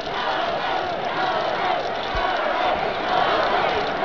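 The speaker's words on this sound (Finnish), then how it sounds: "Yleisö kannustaa ja huutaa täällä Jannea" Spectators at a Planica ski jumping event cheer and shout for Janne Ahonen, a dense, steady roar of crowd voices filling the whole stretch without a break.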